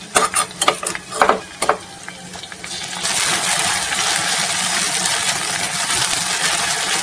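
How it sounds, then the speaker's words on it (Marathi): Ginger garlic paste hits a pan of sautéed onions and green chillies, with several sharp clinks of a spoon against the pan first, then a loud, steady hiss of frying that continues to the end. "यामध्ये टाकते मी अद्रक लसूणची पेस्ट."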